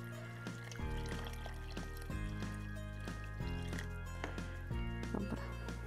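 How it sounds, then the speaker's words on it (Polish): Water pours steadily into a pot of rice for cabbage roll soup in a home kitchen, a continuous soft liquid gurgle and splash with a repeating bubbling pattern, fairly quiet and without talk. "dolewamy wody"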